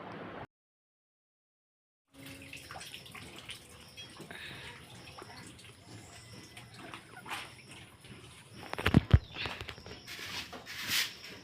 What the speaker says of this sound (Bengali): এগুলো ভালো করে ধুয়ে নিয়ে রোদ্রে দিয়ে দেবো।